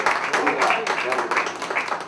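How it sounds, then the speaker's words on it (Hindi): An audience at a senior citizens' residents' association program applauds as a singer is called up, with steady, dense clapping throughout and a few voices mixed in. "प्लीज तालियां बजा के"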